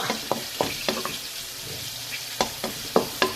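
Garlic frying in a pan, with a spoon scraping and stirring in sharp, irregular strokes over a low, steady sizzle. The sound is close and moderately loud, with no talking.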